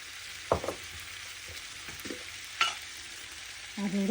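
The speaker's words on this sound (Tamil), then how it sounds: "கலந்து விடுவோம்." Baby potatoes tossed with chilli flakes in a pan give a few scattered scrapes and stirs over a quiet, steady sizzle.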